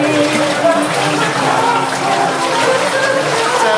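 Water rushing and splashing through an underground tunnel beneath the City of David in Israel, a loud, echoing, continuous gush close by with voices talking over it.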